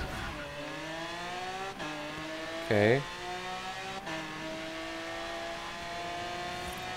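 A Lamborghini Veneno races in Forza Horizon 3, its engine holding a steady high drone through several gear shifts, with a short tire squeal in the middle and one brief spoken word.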